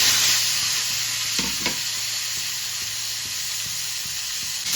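Cut pointed gourd pieces frying in white oil with a little turmeric in a kadai, a loud continuous sizzle with bursts of crackling and occasional stirring scrapes near the start, easing slightly as it goes on.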